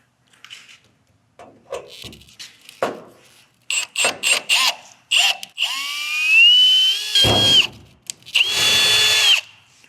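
A power drill bites into the rivets on a metal crossbar during an install, with short bursts giving way to a long, loud, whining run with chattering pitch sweeps, then another sustained burst after a brief pause.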